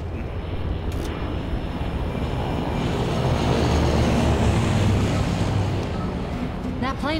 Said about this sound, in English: That plane's headed right for the airport.